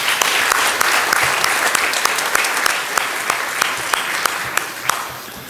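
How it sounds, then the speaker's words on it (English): Congregation applauding puppets during a Methodist worship service, sustained and loud, with a dense field of many hands clapping and a few sharper individual claps standing out through the whole stretch. "Let's give them another round of applause."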